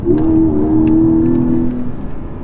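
A 400-horsepower Porsche Cayman driving on a karting circuit, its engine a loud, steady droning hum that holds for a moment and then sinks slightly in pitch as it eases off, with no voices.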